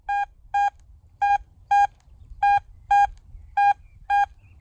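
A DeepTech Vista X metal detector accepting a coin sounds a series of clear electronic beeps in pairs, eight short tones over a low background rumble.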